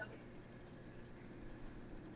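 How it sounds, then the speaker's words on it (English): Crickets kept as bearded dragon feed chirp in the background, four short evenly spaced high trills over a low indoor hum, faint and steady. "I do want to apologize if you hear the crickets in the background"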